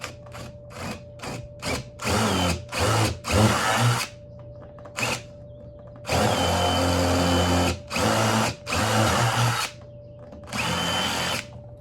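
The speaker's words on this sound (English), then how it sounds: "My plan is to try to drill this out a little bit better so that we could put the switch in there." A power drill bores out the hollow shell of a coconut kalimba thumb piano to make room for a switch, whining in a series of short bursts and then several longer runs, close and loud, separated by quiet pauses.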